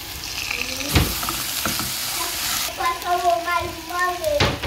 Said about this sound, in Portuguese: Tô refogando aqui a carne moída, tá? Só refoguei ela com alho e cebola